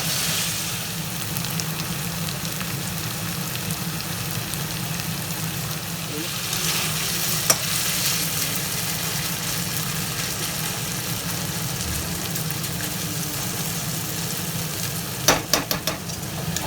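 Potato pieces fry in oil in a kadhai for sabudana khichdi, giving a steady, close sizzle throughout with a few brief stirring clatters near the end.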